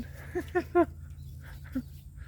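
A dog at a fish pond gives a few short, soft barks or yelps in quick succession, close by, over a steady low hum, with no talk.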